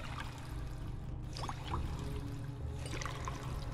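Dirty water pouring and trickling steadily while being collected in the survival game Fallout 4, a faint continuous splashing stream with a low hum beneath, no talking.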